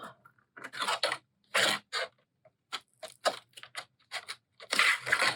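Small paper tabs being folded for a mini bookshelf journal spine, giving close, crisp crinkles and scrapes in short irregular bursts with quiet gaps, with no voices.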